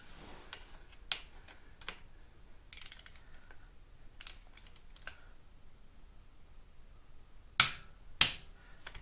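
A torque wrench set to 25 tightens a bolt on a 2019 Harley Davidson Iron 1200 Sportster, giving scattered sharp ratcheting clicks and a couple of louder clicks near the end, close and otherwise quiet.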